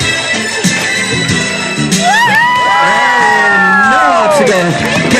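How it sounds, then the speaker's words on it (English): Crowd of spectators, many of them children, chanting and cheering loudly for police dog Ozzy at a K9 demonstration, with a steady din of voices and rising shouts and whoops close by. "Come on, everybody, let's cheer Ozzy on."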